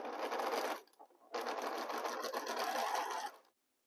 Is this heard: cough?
no